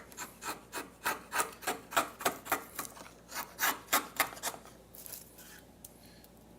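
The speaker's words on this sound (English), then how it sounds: "Again, I'm using the 1-inch chisel here." A 1-inch chisel pares a wooden tenon down to its line, giving a steady run of about fifteen close, rhythmic scraping strokes, then a few fainter ones as the cut finishes.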